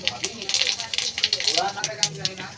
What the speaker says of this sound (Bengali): তো তেলের মধ্যে প্রথমেই দিয়ে দিচ্ছি গোটা জিরে